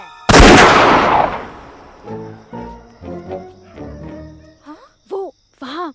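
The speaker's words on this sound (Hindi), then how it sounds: "जाओ नहीं तो गोली चला दूंगा।" A single loud gunshot from a threat-firing scene in a Hindi comedy film cracks up front and decays, followed by scattered thuds, voices and brief animal-like calls.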